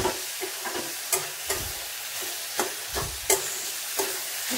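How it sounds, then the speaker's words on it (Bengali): Pumpkin and leafy greens fry together in a pan, a continuous close sizzle punctuated by regular scraping stirs of a spatula against the pan, with no talking. "আর এখানে দেখো কুমড়ো দিয়ে আছে, শাক ভাজা হচ্ছে।"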